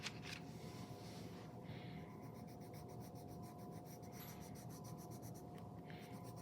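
Colored pencil burnishing on paper with hard pressure, blending blue values: a steady, continuous close-up scratching and rubbing of pencil lead across the sheet, with rhythmic strokes throughout and no talking.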